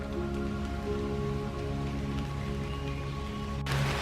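Steady rain falls on a dark, cloudy, foggy morning hike at Iroquois Park, a continuous even patter on an umbrella and the surroundings, with a constant low hum under it and a brief rise in noise near the end.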